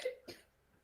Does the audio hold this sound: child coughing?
yes